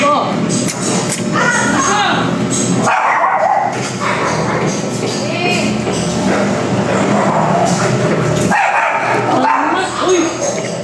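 Dog barking and yipping in a home near an open gate, repeated sharp barks and whimpers close by, mixed with steady people talking throughout.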